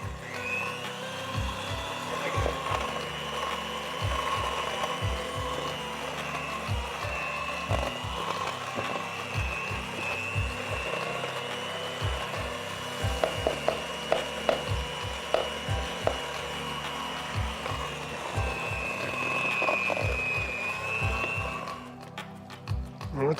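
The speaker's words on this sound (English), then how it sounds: "You need to blend the dry ingredients in a little at a time." Dry ingredients are mixed into banana blueberry muffin batter with a steady whirring mixer and rhythmic knocking and scraping against the bowl, which stop near the end.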